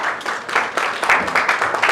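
Guests at a French civil wedding ceremony stand and applaud as the mayor enters the hall, producing dense, continuous clapping from a roomful of people with a few louder bursts.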